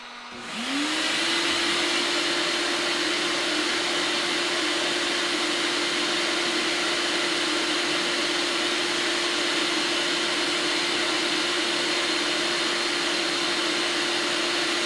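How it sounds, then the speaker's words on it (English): Vacuum pump for a vacuum-forming setup used to shape fishing-lure stencils switches on and runs with a loud, steady drone and a constant hum, alone and unbroken after a brief start-up. "Well, I'm going to turn on the vacuum now."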